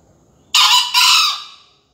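A single loud, close rooster-like crow from a green junglefowl, bursting in suddenly and breaking into a second drawn-out phrase before trailing off into silence.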